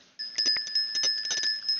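A service call bell on a counter, struck several times in quick succession, giving a bright metallic ring that sustains under a run of sharp taps.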